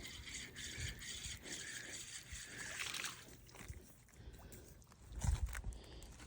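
A fishing reel cranked in a steady ratcheting whir beside very shallow water over a moss shelf, a quiet continuous mechanical clicking with soft water sloshing and a brief louder splash near the end.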